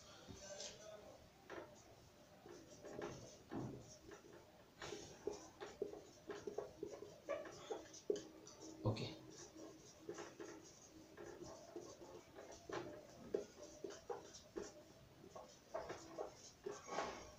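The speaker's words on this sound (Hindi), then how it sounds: "ओके मैं इसको यहाँ पे यहाँ लिख देता हूँ नीचे" Handwriting on paper in a lesson on how an NPN transistor works: faint scratchy pen strokes in short bursts with small pauses between them, quiet and close, alongside a speaking voice.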